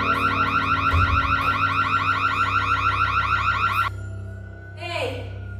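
An electronic alarm inside a house blares close by in a fast, repeating warbling pattern, loud and steady for about four seconds before it cuts off abruptly, then a brief squeal follows.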